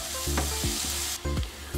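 Small shallots sautéing in a pan already used for roasting coconut, a steady broadband frying sizzle with a few brief stirring scrapes and clunks along the way, close and continuous with no voices.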